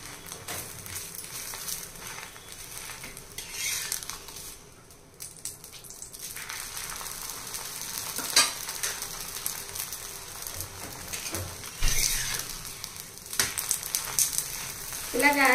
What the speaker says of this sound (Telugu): ఇలాగా రెండు వైపులు తిప్పుతూ మంచిగా దోరగా కాల్చాలన్నమాట.